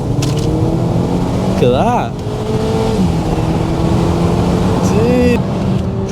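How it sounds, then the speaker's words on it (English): Seat Leon FR accelerating hard through downshifted gears, loud engine roar from inside the car with rising and falling rev sweeps between shifts, while a voice speaks briefly over it. "Put the foot down now. So fourth gear, I'm dropping the gears now."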